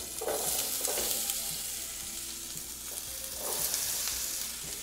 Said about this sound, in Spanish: En aceite bien caliente vamos a agregar las papas.